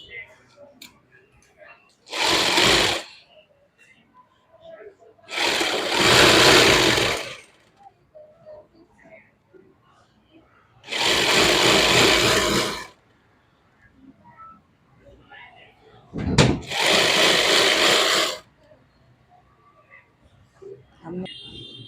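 A sewing machine stitches lace onto a lined suit in four separate whirring bursts, each lasting a second or two, close and fairly loud, with quiet gaps between.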